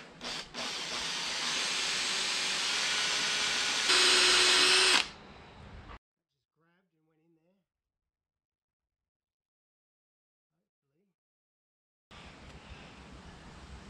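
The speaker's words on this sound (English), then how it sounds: "Pick the right size drill. You don't want to go too big" A loud power drill whines steadily for several seconds drilling out a broken stud, its pitch rising near the end before stopping; after a long silence, the drill starts up again.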